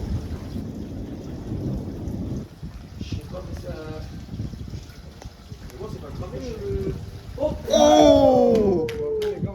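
Thunderstorm with heavy rain drumming close, then fading, while distant rolling thunder rumbles behind it, someone speaks French over the storm, and a loud final burst with a tonal whine ends the stretch.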